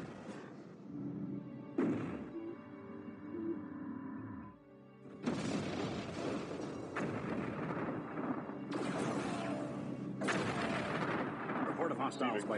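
Battle gunfire in the space strategy game Homeworld Cataclysm, during the "Emergence" mission: loud, dense bursts and booming weapon blasts from the fleet fill the whole stretch, with radio-style command chatter running underneath.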